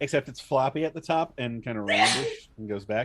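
One quick, loud sneeze bursts out in the middle of steady conversation among players at a Dungeons & Dragons table session.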